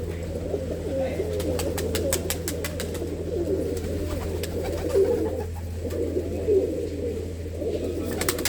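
Pigeons cooing repeatedly in a low, soft rumble, with a steady background hum and occasional sharp clicks, near and moderately quiet.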